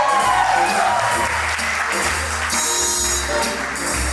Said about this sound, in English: ladies and gentlemen, please have a big round of applause